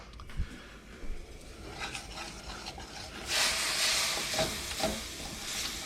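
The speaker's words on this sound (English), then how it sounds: "So we're just going to stir this in and incorporate that flour, that roux." Clam juice and milk are stirred into a flour roux for clam chowder, with soft scraping and a gentle, rising sizzle and hiss from the pot, close and fairly quiet, with occasional light knocks of the utensil and no talking.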